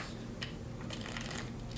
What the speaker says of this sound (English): So what I have to do is to shuffle the deck